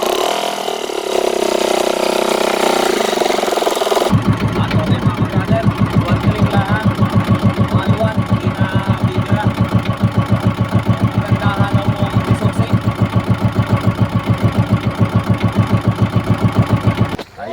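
A diesel engine on a wooden outrigger boat starts after a few seconds and runs steadily, a loud rhythmic chugging idle that is close and continuous to the end.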